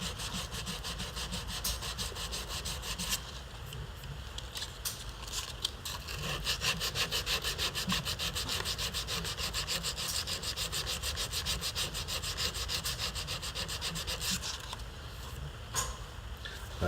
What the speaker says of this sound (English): this is 220 grit sandpaper. I like the Rhino Wet red line.